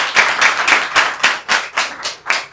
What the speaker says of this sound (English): everybody give a round of applause for Carrie.